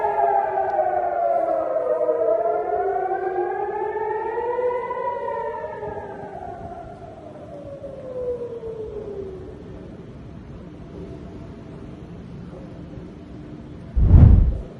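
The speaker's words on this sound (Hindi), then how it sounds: "बेन गुरियन एयरपोर्ट पर सायरन बज रहे हैं" Air raid sirens wail in rising and falling tones at Ben Gurion Airport in Israel, slowly fading out, followed by a sudden loud thump near the end.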